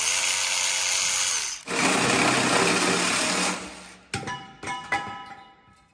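A power tool whirs steadily on a bolt of a crashed, damaged Aston Martin DB12, pausing briefly, running again, then stopping with a few metallic clinks and knocks.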